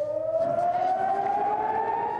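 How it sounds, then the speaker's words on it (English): An air raid siren in Israel wails steadily and loudly as one rising tone, sounding alone with no voices. "The air raid sirens forcing people to stay home and take cover in bomb shelters."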